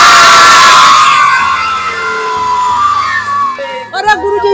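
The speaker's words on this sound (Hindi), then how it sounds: "एक बार ताली बजा के हल्ला करा जोर से" Village crowd at a street magician's show clapping and shouting loudly, a burst of cheers, whoops and children's cries that swells at the start then thins into scattered shouts and voices.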